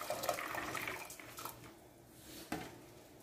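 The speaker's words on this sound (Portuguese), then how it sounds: "vou colocar o feijão agora, ó, coloco com a água do feijão" Soaked beans and their soaking water poured into a cooking pot in a home kitchen: a steady, moderately loud splashing pour, tapering off, with a small splash near the end and no talking.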